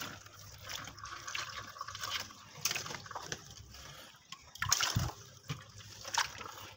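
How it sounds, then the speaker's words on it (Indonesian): Water is poured and splashed over a Panasonic refrigerator to defrost it, giving faint, uneven trickling, dripping and splashing with a few louder splashes near the end. "untuk mencairkan di sini hanya kita siram menggunakan air."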